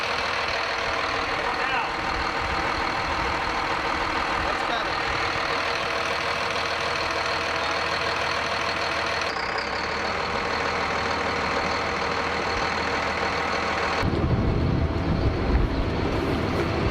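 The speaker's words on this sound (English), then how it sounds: "I'm going to try and do as much as possible with the starboard engine forward" A boat's starboard engine runs with a steady, loud, droning rumble that holds throughout, shifting slightly in tone partway through and growing heavier near the end.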